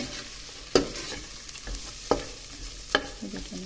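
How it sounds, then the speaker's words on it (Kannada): Cluster beans (gorikai) frying in a pan for pulao, steady sizzle broken by three sharp scraping stirs of a spatula against the pan, close and clear. "ಚೆನ್ನಾಗಿ ಫ್ರೈ ಮಾಡಬೇಕು ಫ್ರೈ ಆಗಿದೆ"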